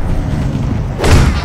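An enemy cannon in the game Alice: Madness Returns fires, and the blast hits as a loud, deep boom partway through. A low rumbling game background sits under it, and the boom's wide burst of noise lingers briefly.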